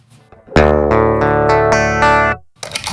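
A distorted synth chord sequence runs through compression on an Endorphin.es Golden Master mastering module, sustained, dense and loud, with stepped chord changes and a short tail before another burst begins.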